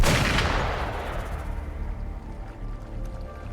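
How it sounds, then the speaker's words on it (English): Gunfire in the video game Wuthering Waves: a loud burst booms up close at the start, then rumbles and fades into a lingering low din. "Gunfire! We've got intruders."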